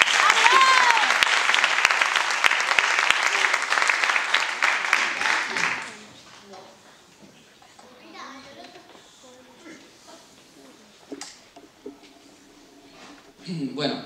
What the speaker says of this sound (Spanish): venga, un aplauso para Lara.